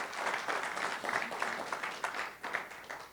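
A church congregation applauds in a soft, continuous patter of clapping, fairly distant and even throughout.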